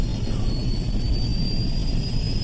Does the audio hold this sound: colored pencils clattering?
no